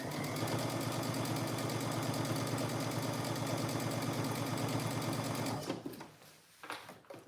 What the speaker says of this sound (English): show myself sewing these on